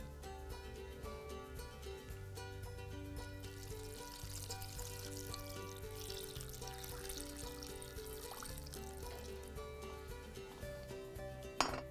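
Water poured into a soup pot in a home kitchen, a steady quiet stream running for several seconds with faint clinks of pots and utensils, no talking.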